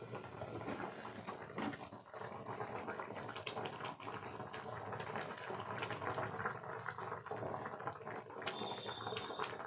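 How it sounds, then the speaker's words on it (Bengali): Pieces of fried rohu fish going into a pot of boiling curry with potatoes, a quiet steady bubbling and simmering with faint liquid stirring close by. "এখন আমি দিয়ে দেবো ভেজে রাখা মাছগুলো।"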